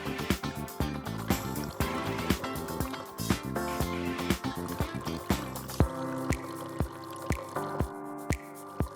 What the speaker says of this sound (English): the water flow will start and stop.